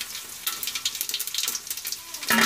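Five-spice mix (panch phoron) crackling and sizzling in hot oil at the start of fish biryani, irregular popping spits over a steady frying hiss, close and alone, with a louder burst at the end.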